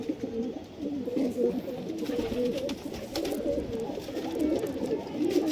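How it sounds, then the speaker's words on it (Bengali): A pair of Malbai (Rajenwale) high-flyer pigeons, a male and a female, coo close by in a continuous, throaty murmur, with voices in the background. "মালবাইয়ের নাম রাজেনওয়ালে পায়রা।"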